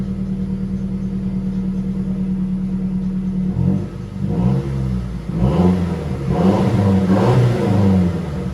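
A Mazdaspeed 3 engine with a newly replaced serpentine belt idles smoothly close by, then revs up and falls back several times in a rhythmic pattern, with no talking.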